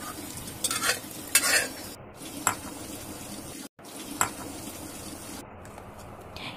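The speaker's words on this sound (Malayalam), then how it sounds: "അതിനുശേഷം നമ്മുടെ കഷ്ണങ്ങൾ ചക്ക തക്കാളി മുരിങ്ങയ്ക്ക ഇതെല്ലാം കൂടെ ഇതിലേക്ക് ഇട്ട് കൊടുക്കാം." Jackfruit, tomato and drumstick pieces tumble into a simmering sambar pot, followed by spoon stirring and clinks against the metal pot, a few sharp bursts over a steady low bubbling background, close and without talk.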